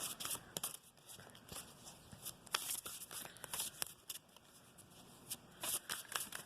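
Oversized tarot cards being shuffled by hand, a run of close, crisp riffling bursts and flicks in an irregular rhythm with quiet gaps between them.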